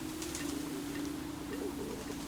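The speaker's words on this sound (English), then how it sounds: "It sounds like birds." Bird sounds in the video game Antichamber: a steady low cooing, dove-like drone runs through the whole stretch with faint chirpy flecks above it, no talk.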